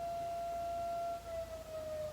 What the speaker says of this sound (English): I came to the country to not hear sirens, and I hear siren